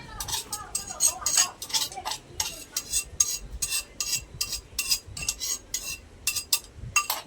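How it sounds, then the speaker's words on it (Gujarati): A spoon stirs freshly made chutney in a metal pot, giving quick, rhythmic clinks and scrapes that repeat steadily from start to finish. "પછી આપણે એને હલાવી નાખીએ. ચટણી બની ગઈ છે."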